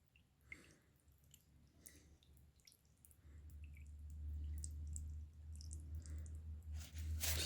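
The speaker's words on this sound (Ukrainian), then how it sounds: "зараз з мотора збіжить все масло." Engine oil drains from a GAZelle's 405 engine, a faint liquid trickle and scattered drips that swell into a steadier, louder pouring stream about halfway through.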